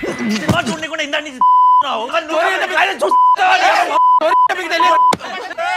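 A loud series of electronic beeps in a Sprite soft drink advertisement, several steady tones cutting in and out over energetic talking.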